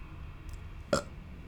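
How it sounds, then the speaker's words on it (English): A single short burp heard near the microphone, brief and fairly loud against a quiet background hum. "Burp."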